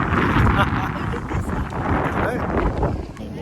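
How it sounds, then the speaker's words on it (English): Gusty wind buffets the microphone in rough, continuous bursts on a Paris street on New Year's Eve, with faint voices in the background. "Really windy."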